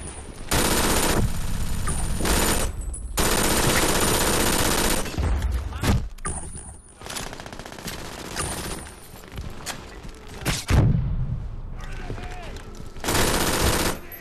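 In the game Brink, a turret fires in long sustained bursts of rapid automatic gunfire, loud and close, with brief pauses between volleys.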